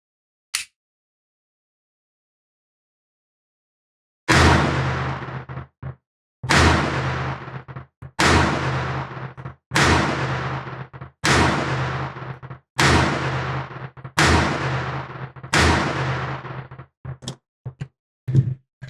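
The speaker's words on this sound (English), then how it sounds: "Let's put some holes in paper and see how this firearm performs today." Smith & Wesson EZ 380 pistol fired at a paper target on a range, seven evenly spaced loud shots after a quiet start, each with a sharp crack and short ringing tail, then a few fainter clicks and a last report.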